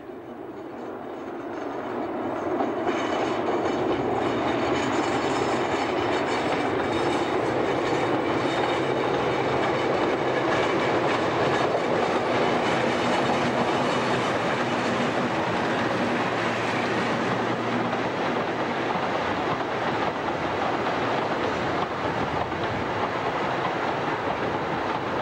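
A diesel freight locomotive passing in 1980s South Wales, a sustained loud rumble that builds in the first seconds and holds steady with rail clatter.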